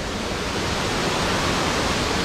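Water roars down a waterfall at a dojo beside a forest road in Wakayama, a loud, steady broadband rush with no pauses or other sounds.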